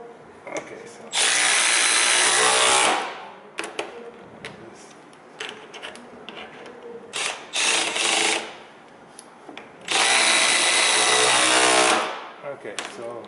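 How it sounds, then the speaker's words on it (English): Electric impact wrench tightening studs on a single-ply snowmobile track, two loud sustained whirring bursts of a few seconds each, close by, with softer clicks and handling noise between them. "instead of going by hand, I use my electric impact"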